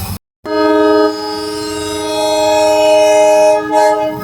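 Loud, sustained two-tone horn from the Pamban Express train, blaring steadily for several seconds after a brief gap of silence. The horn sounds close, dips slightly once, and swells again near the end.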